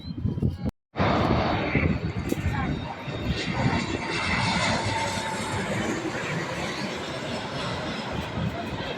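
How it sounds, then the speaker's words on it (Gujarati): A low-flying airplane passes close overhead near an airport, its engine roar loud and sustained with deep rumbling throughout. People talk underneath. "નજીકથી વિમાન અમારા માથા ઉપરથી નીકળી એ પ્રમાણે નીકળી ગયું છે એકદમ"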